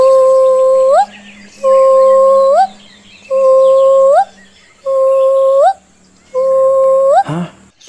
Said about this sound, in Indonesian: Sepertinya itu suara kelempiau, Kelasi.